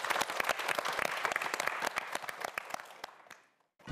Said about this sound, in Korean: 강정구 학생과 그리고 우리 최도현 학생에게 모두 큰 박수 부탁드립니다.